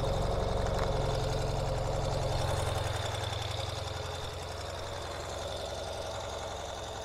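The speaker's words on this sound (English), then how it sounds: "So we can see it starts right up." Cold 2023 Ural Gear Up motorcycle in slate grey, its engine running with a steady low idle that is loud at first and eases slightly into a constant, even chug, with no talk.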